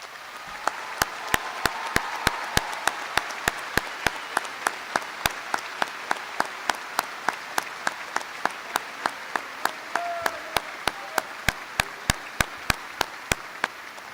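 Sustained applause from a high school graduation audience standing for military graduates, a dense wash of clapping with a few sharp individual claps standing out, steady and full throughout.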